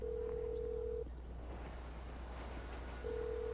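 A phone call ringing out in Grand Theft Auto 5: a steady pure ringback tone sounds for about a second, pauses for two seconds, then starts again, quiet over a low hum.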